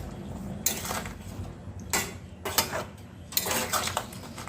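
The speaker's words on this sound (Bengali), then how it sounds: "ভালো করে মিশিয়ে দিচ্ছি।" A metal spoon scrapes and clanks against a pot while potato curry is stirred, in about four distinct bursts of scraping separated by short pauses over a low, steady kitchen hum.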